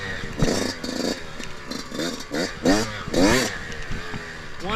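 A brand-new 2021 Yamaha YZ125X two-stroke dirt bike being ridden during break-in, engine buzzing and rising in repeated quick revs through gear changes, loud and close with a steady rasp throughout.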